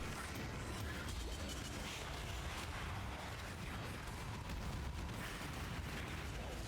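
Explosions in the video game Path of Exile, a dense, continuous rumble of overlapping booms and crackling bursts, faint overall and without any pauses or speech.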